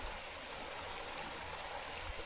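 A small waterfall spills from Perfection Lake into Sprite Lake in the Enchantments backcountry, giving a soft, continuous rush of falling water, fairly quiet and unbroken, with no voices.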